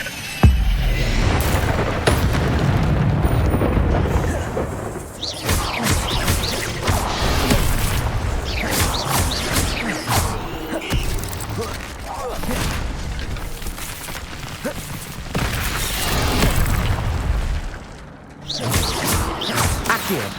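Incendio fire spells cast in the Hogwarts Legacy video game, loud repeated booming blasts and whooshes in a dense, continuous battle mix with brief lulls.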